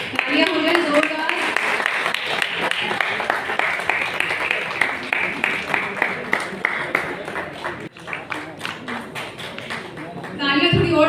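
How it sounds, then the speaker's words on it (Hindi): Audience clapping at an award ceremony, a steady patter of many hands running under a presenter's amplified voice that continues throughout, with a brief louder flurry near the end. "तालियां हो जाए जोरदार।"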